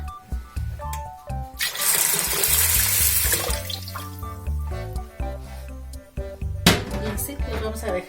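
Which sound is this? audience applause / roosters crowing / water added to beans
water added to beans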